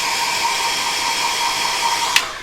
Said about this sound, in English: Let me know how annoying this hairdryer is.